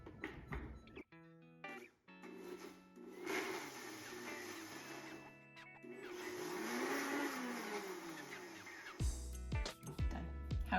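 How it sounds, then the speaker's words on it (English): Oats being ground into flour in a blender, a loud, steady whirring roar lasting several seconds, with a short stop and restart near the start and a few brief bursts near the end, with no talk. "put it in the blender and blend it until it's the consistency of flour"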